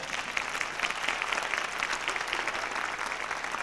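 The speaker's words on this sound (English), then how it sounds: "You need to give yourselves a round of applause." Sustained applause from an audience at an honor society ceremony for a high school class of 2001, a steady dense clatter of many hands clapping throughout.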